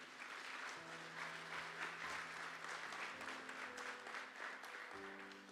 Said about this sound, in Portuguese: Dê sua melhor salva em palmas então, se você crê nisso